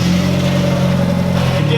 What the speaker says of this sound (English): Emerson's gonna do a quick 2-step in the shop